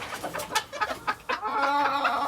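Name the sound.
gamefowl hen clucking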